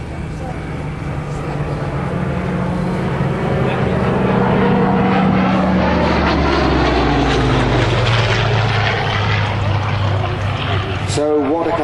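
A Hawker Hurricane and a Spitfire Mark V piston-engined propeller fighter fly a display at an airshow, their engine drone steady and loud with shifting pitch as they pass, while a commentator talks over a public address system.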